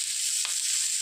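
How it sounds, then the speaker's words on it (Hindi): Paneer cubes searing on a hot tawa give off a steady, close sizzle of fine hiss throughout, with a brief stirring scrape midway and no voices. "और इस तरह से जो पनीर है इसको मैं साइड साइड में इस तरह से सेक लूंगी।"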